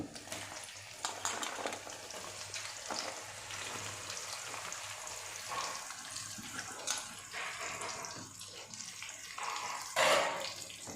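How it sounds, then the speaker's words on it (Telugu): Bitter gourd pieces deep fry in hot oil with a continuous, dense, hissing bubble that stays steady throughout, with a few faint stirring clinks on top, close and moderately quiet. "ఆయిల్ కాగిన తర్వాత కాకరకాయలు వేసుకోవాలి."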